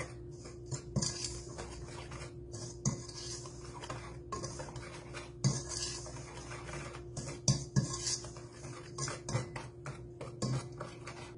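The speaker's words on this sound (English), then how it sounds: "I'm gonna go ahead and whisk all of that together" Whisking dry ingredients and sugar in a bowl for vegan carrot cake cupcakes, a rhythmic series of light scraping and clinking strokes of a whisk against the bowl, close and unaccompanied.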